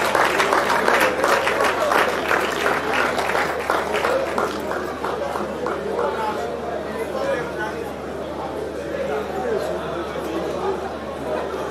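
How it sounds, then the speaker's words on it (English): A crowd claps loudly for a graduate engineer at a Nigerian engineering society induction ceremony. Dense applause swells early, then gradually gives way to crowd chatter and murmuring voices that continue under the fading claps. "Please, can we give him a round of applause"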